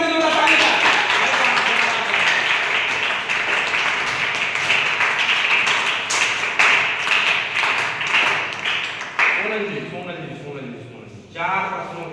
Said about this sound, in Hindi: बिल्कुल सही जवाब इनके लिए जोरदार ताली का